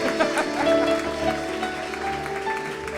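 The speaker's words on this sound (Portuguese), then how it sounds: "dê uma salva de palmas ao Senhor Jesus, glorificando e exaltando o nome dele" A church congregation claps in praise of Jesus, some holding umbrellas, a dense sustained applause with music and voices underneath, loud and steady throughout.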